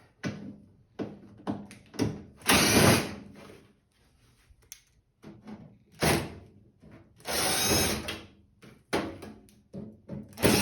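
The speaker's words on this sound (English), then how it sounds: "So we're removing these screws." A power drill backs out screws from an over-the-range microwave's exhaust fan, giving several bursts of whirring: short buzzes mixed with two longer, louder spins, separated by quiet gaps, close up.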